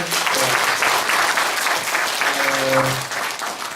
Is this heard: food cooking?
no